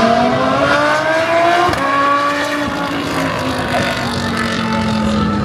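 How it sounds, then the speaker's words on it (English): WEC endurance race cars power out of the pit lane into turn one at Circuit of the Americas, loud engines overlapping with sweeping pitch changes and a brief sharp crack, continuous and close. "I got a little bit of the cars coming out of the pits into turn one"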